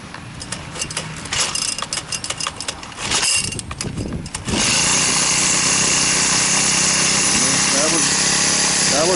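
A Craftsman 32cc four-cycle gas string trimmer, model 73193, started without the choke: several irregular rasping bursts, then the engine catches and runs at a steady, loud, continuous drone, close by.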